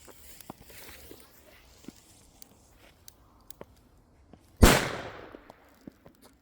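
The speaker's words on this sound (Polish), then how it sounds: "Ja mam tu petardy z cracklingiem nawet" A single sharp, loud bang from a crackling firecracker, with a crackling burst and fizzing decay, set among scattered small clicks and crunches.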